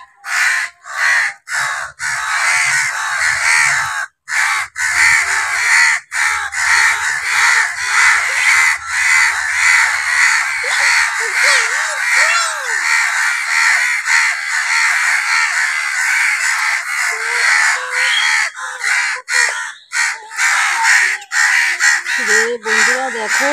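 Crows caw loudly and almost nonstop from the treetops, harsh repeated calls overlapping close by, with a person speaking now and then beneath the racket.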